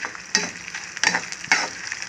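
Urad dal, chana dal, cumin and two dried red chillies frying in hot oil for a tempering, a steady close sizzle broken by a few sharp stirring scrapes at regular intervals.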